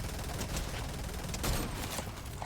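Charge SMG fired in Fortnite: Battle Royale, a dense, rapid stream of shots sustained for a couple of seconds at moderate volume, with no voices.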